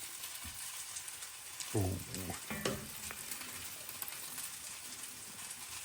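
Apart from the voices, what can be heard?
grilled cheese frying in mayo in a pan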